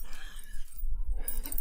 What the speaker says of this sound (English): this is one of my dogs